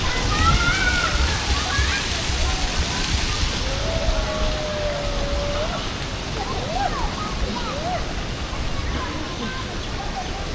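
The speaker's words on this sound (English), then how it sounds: "A whole water park for kids and adults can enjoy it too." Water splashes and rushes steadily at a water park for kids and adults in Pattaya, a continuous wash of sloshing and spray close by, with voices talking over it.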